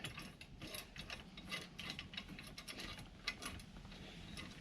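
Ratchet clicking while tightening a Harbor Freight winch mount on a 2020 Polaris Ranger 1000 EPS, a steady run of close, quick mechanical clicks with irregular rhythm and no talking.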